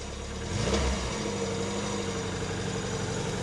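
Car engine revving briefly, then settling into a steady hum as the car pulls away smoothly, heard from a distance.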